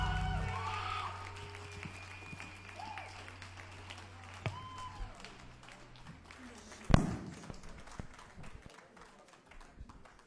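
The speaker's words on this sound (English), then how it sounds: "keep that applause going for all of the fantastic acts we've had up on the Youth Rock stage tonight" Audience applause and cheering at a youth rock contest semi-final, a spread-out crowd clapping under a loud announcer's voice, with band and stage sounds fading as the clapping continues.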